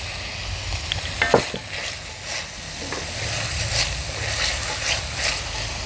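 Capers and olives going into a hot pan for pasta puttanesca, with chili flakes already in it, a loud steady sizzle with scraping and stirring close by, and a brief clatter as they land.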